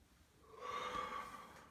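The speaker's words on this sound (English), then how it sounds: "Sorry, I keep yawning." A single drawn-out yawn, a soft breathy rise and fall lasting over a second, quiet and close, with no speech.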